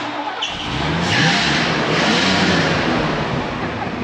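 A 1974 Ford Ranchero with a 351 Cleveland V8 fires up and holds a loud, steady engine roar close by, rising slightly as it is revved, with no talking over it.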